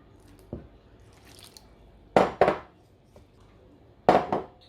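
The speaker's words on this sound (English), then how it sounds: "I'm just going to tip in the warm water and do a little bit at a time." Warm water is tipped into bread flour for brown bread and worked with the back of a wooden spoon, giving a few soft, wet splashes and squelches in separate bursts with quiet gaps between, close by.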